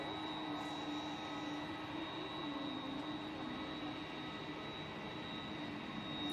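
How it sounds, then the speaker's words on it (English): Passenger jet taxiing at Manchester Airport, a steady engine whine and hum with a constant high tone, even and moderately loud throughout, with no talk. "we have that flight to Orlando now, with the 2 honeymooners on board, making its way down Tango towards us"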